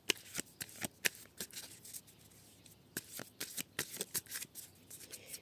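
Oracle cards from a Damona oracle deck being laid onto one another on a table: a series of short, crisp card snaps and slides, some in quick pairs, close and fairly quiet, with no voices.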